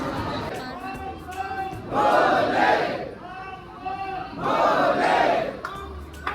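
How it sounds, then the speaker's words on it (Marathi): Dense crowd of pilgrims at Trimbakeshwar temple in Nashik, a loud mass of overlapping voices and shouts swelling in two big waves of chanting or cries, close and enveloping throughout. "पण इथे खूप गर्दी आहे. बापरे एवढी गर्दी आहे."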